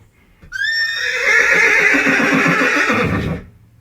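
A mare gives one long, loud whinny close by, rising sharply and then trembling for nearly three seconds before it stops, with no talk over it.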